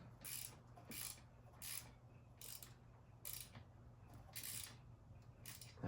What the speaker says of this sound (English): just kind of slowly tighten them down where they're snug.